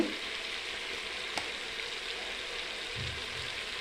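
Spices fry in hot oil for an Andhra sambar with a faint, steady hiss close by and a brief clink near the start, with no voices.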